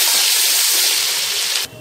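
Ginger tossed into a hot pot with dark-browned onions and cardamom for mutton tahari bursts into a loud, spraying sizzle that fades slightly and then drops off abruptly near the end.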